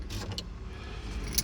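Truck keys jingling and clinking in a hand, a few light metallic rattles with a sharper jangle near the end, close and fairly quiet with a low rumble underneath.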